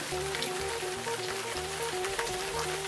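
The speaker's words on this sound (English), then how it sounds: "Then it started to rain harder, so we stopped, hoping the rain would lighten up." Heavy rain falls on a street in Sorrento, Italy, a dense, even patter on surfaces throughout, with a faint steady tone in the background.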